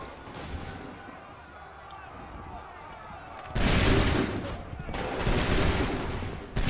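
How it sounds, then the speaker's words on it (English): A volley of massed musket gunfire in the Assassin's Creed 3 video game erupts suddenly after a quieter rumbling stretch, a loud sustained crackling blast followed by a second heavy burst and a final sharp shot. "Open fire."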